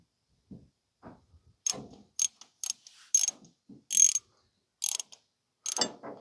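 Ratchet wrench tightens a spark plug on an antique Ford 8N tractor, giving a series of sharp separate clicking bursts at uneven intervals, close and clear against quiet.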